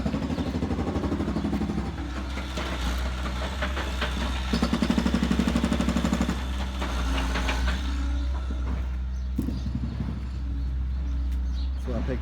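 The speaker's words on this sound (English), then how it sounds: "Big old jackhammer thing going on over there. Tearing up the concrete" A jackhammer breaking up concrete rattles in rapid bursts at a distance over a constant low engine drone, pausing and restarting several times.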